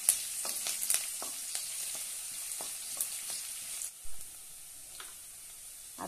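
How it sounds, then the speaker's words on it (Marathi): Chopped onion and curry leaves sauté in a hot pan for an onion greens besan dish, a steady soft sizzle with scattered ticks of a spatula stirring, fairly quiet and with no one talking. "छानपैकी परतून घेऊया।"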